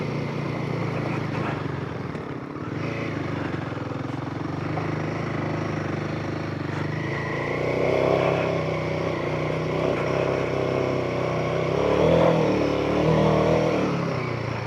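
A Hemi-powered vehicle labours up hill climbs on a rough track, its steady engine drone near and continuous, swelling in load and revs around the later seconds.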